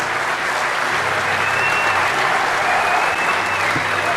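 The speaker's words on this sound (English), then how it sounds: "Let's hear a round of applause." Large audience at the DEFCON hacking convention applauding in a big hall, a steady, loud, continuous roar of clapping throughout.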